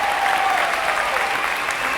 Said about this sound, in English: Please give a huge round of applause for the 2018 Akademia Christian Gospel Artist of the Year